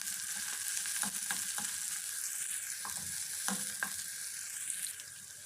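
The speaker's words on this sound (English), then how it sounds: "A few curry leaves and a crushed cardamom and saute well." Onion, capsicum, tomato, curry leaves and crushed cardamom sizzle steadily in a pan, with occasional soft stirring knocks and scrapes over a constant frying hiss, fairly quiet and without talk.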